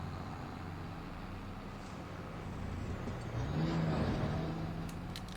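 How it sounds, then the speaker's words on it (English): A big truck and a tractor rumble past on a farm road, a steady low engine drone that swells slightly toward the middle and stays fairly distant, with no voices. "Big truck coming through and tractor."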